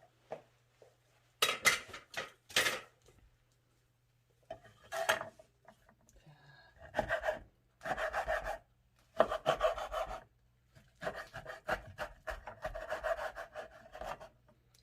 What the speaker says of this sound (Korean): 그 다음에 하나는 제가 썰어 볼게요